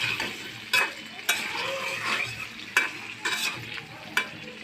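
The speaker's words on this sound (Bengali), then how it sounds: "হলুদ গুঁড়া দিয়ে আমি আস্তে আস্তে একদম নেড়ে নেব।" Prawns frying in hot oil with turmeric, giving a steady close sizzle punctuated by several sharp scrapes and clacks of a utensil stirring the pan at irregular intervals.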